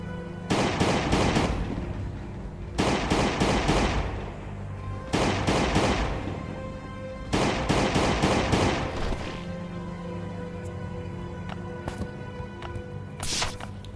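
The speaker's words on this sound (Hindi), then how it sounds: "गन से मारूंगा उसे।" Bursts of video-game gunfire from a Glock 17 in Last Day on Earth, played against a zombie at a creek farm: several clusters of rapid, loud shots over a steady background hum, with scattered fainter clicks afterward.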